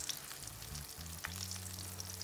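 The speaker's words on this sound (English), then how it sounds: "So let's begin to fry slow." Chicken pieces frying slowly in oil in a pan for old-fashioned Southern pan-fried chicken, a steady quiet sizzle with faint crackles and low clatter from placing pieces in the pan.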